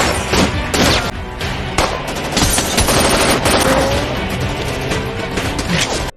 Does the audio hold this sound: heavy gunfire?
yes